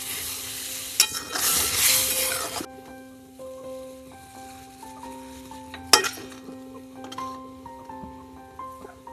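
Turmeric and a ground paste for garlic fenugreek sauté in a hot pan, giving a loud burst of sizzling for the first couple of seconds that settles into a quieter fry with a sharp knock partway through.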